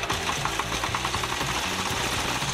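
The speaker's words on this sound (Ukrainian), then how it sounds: "Запускаємо двигун за допомогою електростартера." Petrol engine of a Kentavr MB 1080 walk-behind tractor, fitted with a riddle-type potato digger, running loud and close just after electric starting, with a steady rapid mechanical chugging throughout.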